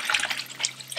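Cold water pours into a portable mini washing machine with spin for an RV or small house, a brief close splashing gush with bubbly, hissing texture.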